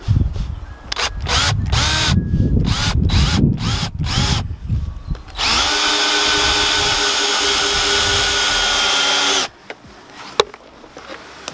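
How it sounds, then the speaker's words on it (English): A power drill drives screws at an angle into the timber of a wooden no-dig garden bed, loud and close: a series of short trigger bursts, then one sustained whirring run of about four seconds before it stops. "What I'm going to do is just go in at an angle like that with these screws."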